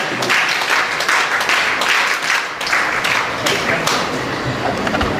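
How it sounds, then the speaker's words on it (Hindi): Audience at a girls' life-building camp clapping to welcome the camp president, sustained applause throughout with a voice faintly underneath. "हाँ, तालियों से स्वागत करेंगे।"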